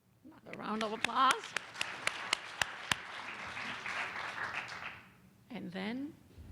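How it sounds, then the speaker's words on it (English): Audience applause at a William & Mary strategic planning forum, a burst of crowd clapping with a few sharp claps standing out, running under a voice that talks over it before fading, then speech resumes alone. "another round of applause"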